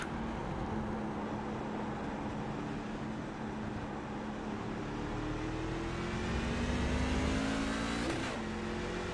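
A race truck in the iRacing video game drones at high revs, and its engine pitch drops through downshifts near the end, with a continuous roar and no talking.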